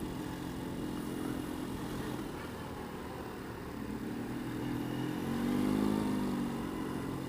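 A vehicle cruises through freeway traffic on the 101 heading into downtown Los Angeles, a steady low road and engine rumble that swells gradually louder toward the end, with no talk.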